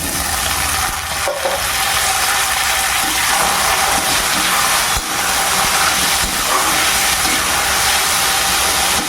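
Tomatoes sautéing in a pan with green chillies and onions for a broad bean and dried anchovy curry, giving a loud, continuous hiss and sizzle with a couple of sharp knocks from stirring.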